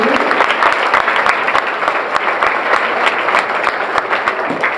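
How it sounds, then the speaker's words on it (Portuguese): Audience applause in a church gathering on family and raising children, a steady, dense crackle of many hands clapping close by, holding at even loudness throughout with no talk over it. "Pode dar um aplauso?"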